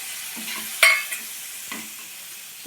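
Oysters dropped into a hot pan and stir-fried, a soft sizzle with a few sharp spatula scrapes and clinks, no voices.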